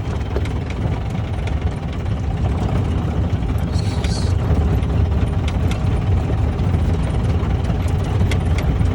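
A campaign vehicle's engine idles after a Sundar carbon antidote plus cleaner treatment, a steady, loud, close low rumble with a faint mechanical ticking throughout and no talk.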